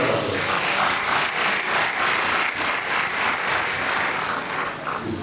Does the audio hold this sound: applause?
yes